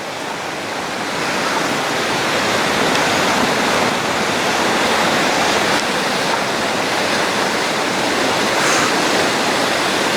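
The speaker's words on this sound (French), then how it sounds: "Désolée pour les bruits de l'eau" Floodwater rushing after a day of heavy rain, a loud, constant broadband roar like a waterfall that holds steady throughout with no voices.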